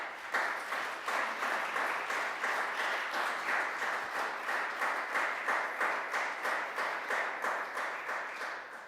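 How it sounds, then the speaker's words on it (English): Conference audience applauding at a closing session on climate change and energy, steady sustained clapping with a slightly pulsing rhythm, moderately distant and even in level for the whole stretch. "Very glad to hear that applause"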